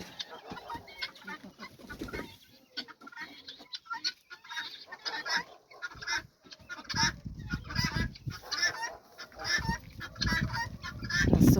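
Domestic guinea fowl give repeated harsh, cackling calls from a farmyard flock. The calls overlap one another in a busy, irregular chorus at moderate distance that grows louder toward the end.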